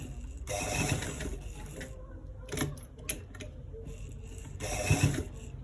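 Sewing machine stitching the inner pocket of a V-neck garment, short bursts of rapid mechanical whirring separated by quiet gaps and small handling clicks, fairly close.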